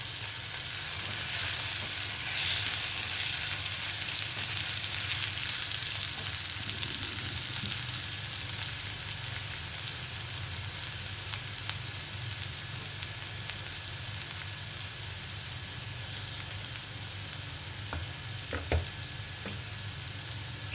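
Tomatoes fry with vegetables in a pan for vegetable semiya, making a continuous, even crackling sizzle close by for about twenty seconds, with a couple of sharp stirring knocks near the end. No one speaks.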